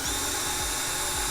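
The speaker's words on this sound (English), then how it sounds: "we're going to drill exactly in between our two hole" A power drill bores through a hardware-mounted windscreen between two hole marks at high speed and low pressure, giving a steady, close, continuous whine that does not let up.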